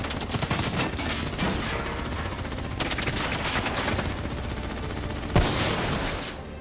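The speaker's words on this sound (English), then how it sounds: "What the hell? Who's shooting?" Sustained rapid gunfire fills a Call of Duty: Black Ops III firefight, with dense overlapping bursts throughout and a sharper single crack near the end, loud and continuous without talk.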